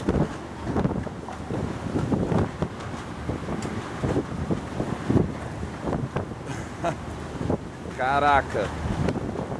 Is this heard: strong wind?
yes